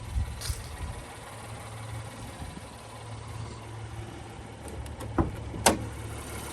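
A 2020 Acura MDX's 3.5 liter V6 idles with a steady, low, close hum, broken by a few brief clicks and a soft thump near the end.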